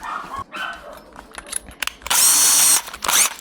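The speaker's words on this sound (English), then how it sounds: "So we'll go to step drills now." A cheap step drill bit bores into material on a 5-liter pressure sprayer, with short tool bursts and clicks, then a sustained loud whirring cut near the end, close up.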